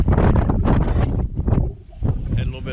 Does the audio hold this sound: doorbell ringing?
no